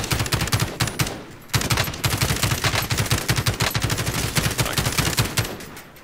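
Video game gunfire: rapid automatic bursts of shots crackling close and loud, a brief pause around the first second and a half, then a long sustained stream of fire.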